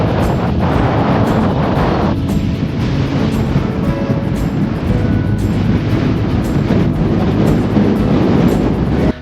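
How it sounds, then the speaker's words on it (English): Strong wind roars over a hilltop beside a cairn, buffeting the microphone in a constant loud rumble with gusty surges throughout. "What a load of wind."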